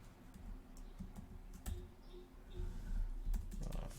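Rapid typing on a faulty computer keyboard, close by, with irregular clicks and taps in short bursts over faint background hum.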